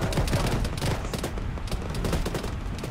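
Sustained gunfire crackles from all sides around the player in a ShackTac military video game, dense overlapping shots and bursts at close and middle distance with no pause.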